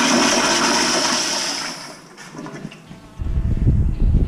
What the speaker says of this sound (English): I just flushed 9 toilets.